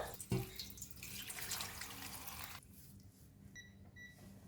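Water runs from a tap into a pot of pandan (screw pine) leaves, a steady broadband rush for about two and a half seconds, then quieter drips and light clinks close by.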